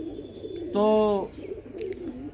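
One short, clear call from a high-flyer pigeon stands out briefly at close range. Someone speaks Hindi around it over a low background murmur.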